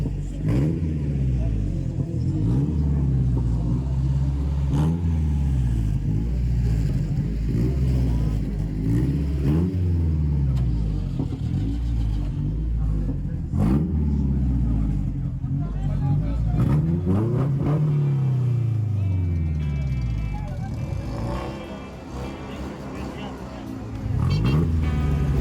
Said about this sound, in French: pourquoi la passion pour ce type de moto et spécialement cette marque?